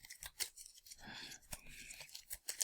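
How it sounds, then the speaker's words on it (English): Game cards being shuffled by hand, a close, quiet series of papery riffles and flicks in uneven bursts, with faint talk in the background. "Here, I'll shuffle them up."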